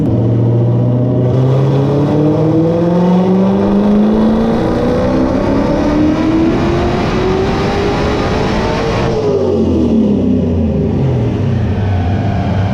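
A Coyote-swapped 1993 Cobra with a 91mm turbo screams through a dyno pull at 8 PSI boost, the engine pitch climbing steadily for several seconds, then abruptly dropping as the throttle closes, loud and close with no talking.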